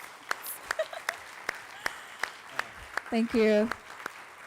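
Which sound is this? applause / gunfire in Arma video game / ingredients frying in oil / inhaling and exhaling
applause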